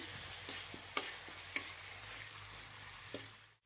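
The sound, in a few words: ginger frying in a pan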